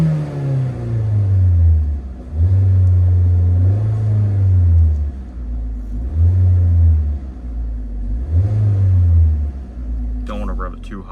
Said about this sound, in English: Let's give it a couple light revs.